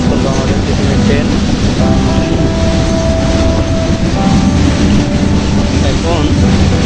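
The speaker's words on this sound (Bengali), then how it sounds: "ঝড়ের গতিতে সান্তা স্টেশনে প্রবেশ করলো আমাদের টিফিনের ট্রেন" A tiffin train pulls into Santa station, its loud rolling rumble and wheel noise filling the platform steadily throughout, with a brief high squeal of brakes partway through.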